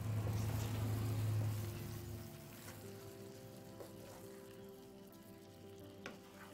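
Prawns stirring and frying in a pan for a Mangalore-style ghee roast, a steady close sizzle that is loudest at the start and then eases, with scraping and stirring knocks throughout and no voices.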